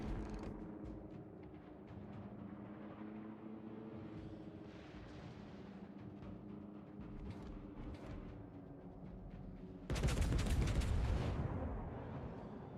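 406mm naval cannon firing in World of Warships, a single loud close blast near the end that fades out, following a long stretch of low engine rumble.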